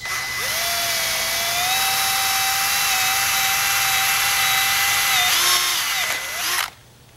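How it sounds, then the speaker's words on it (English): A power drill fitted with a 3/8 inch bit drills a hole through the end of a lure retriever, a steady high whine held for about six seconds, loud and close, then cut off abruptly. "I'm going to take a 3/8 inch drill bit and I'm going to drill a hole right at the very end."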